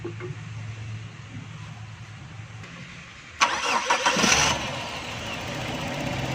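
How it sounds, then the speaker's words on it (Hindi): A 1982 Toyota Corolla engine starts after brake fluid is added: a short cranking burst, then the engine catching and settling into a steady idle, close and fairly loud. "ब्रेक ऑयल डालने के बाद दोस्तों गाड़ी को स्टार्ट करेंगे"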